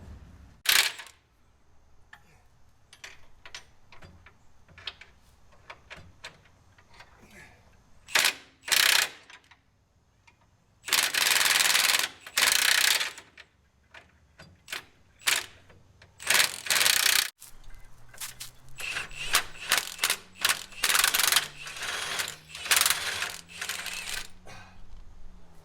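Wedged bolts are worked loose from a 2021 Polaris RZR Pro A-arm with a ratchet or impact tool, in repeated bursts of mechanical rattling and clicking separated by short pauses, heard close and fairly loud.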